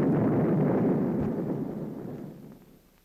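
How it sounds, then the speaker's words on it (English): A Mark 45 nuclear torpedo warhead detonates as a deep, rumbling explosive roar that swells briefly and then slowly decays over a few seconds, muffled and heavy in the low range. "At the burst point, the warhead is detonated."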